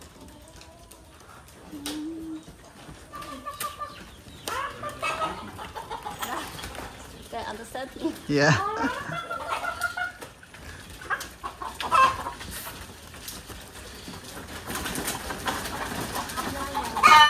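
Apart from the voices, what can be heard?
chickens clucking on a farm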